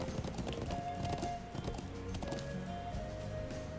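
Horse hooves clip-clop in the video game Trails of Cold Steel, a quick run of light rhythmic clops over game music and ambience, fairly faint and steady.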